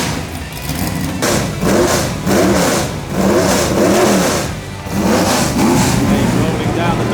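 A Lola T332 Formula 5000 race car engine revs hard in repeated surges, loud and close, with a low throbbing rumble between bursts, at Donington.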